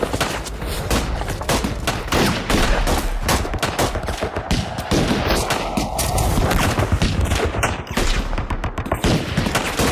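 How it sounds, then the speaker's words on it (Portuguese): A sustained volley of gunfire in a 2018 drama film, rapid overlapping shots and booms firing continuously, loud and close throughout. "Tiros disparados."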